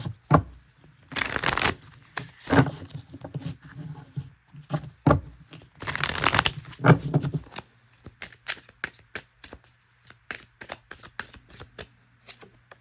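A self-love spiritual reminders card deck is shuffled by hand, first in several loud riffling bursts and then in a quicker run of crisp, evenly spaced slaps and flicks, close up with no voice.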